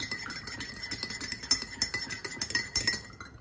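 A spoon stirs a homemade honey drink meant as a cough remedy in a glass, giving quiet, repeated clinks against the glass at an irregular pace.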